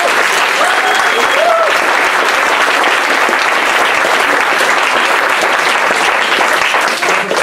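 Loud, steady applause from a poetry slam audience welcoming a performer to the stage, a thick continuous wash of clapping that lasts the whole stretch without a break.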